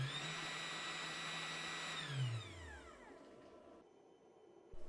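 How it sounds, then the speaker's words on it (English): FoxAlien XE-Pro CNC router spindle whining at maximum speed, a high steady tone that then winds down in pitch and fades to near silence, with a small click at the end. "We can test the spindle."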